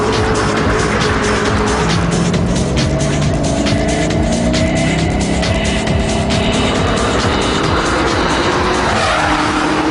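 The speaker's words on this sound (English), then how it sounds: "This is the GT40 Ford, which is my first super sports car I ever bought." Ford GT40 super sports car driving hard, a loud, continuous engine roar with tire squeal and skidding running throughout, close and without talk.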